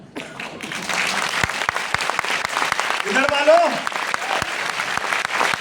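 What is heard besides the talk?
audience clapping at a seminar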